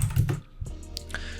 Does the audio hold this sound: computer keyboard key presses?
yes